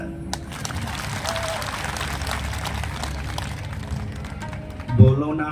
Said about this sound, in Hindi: रावण के मरने पे ताली तो बजा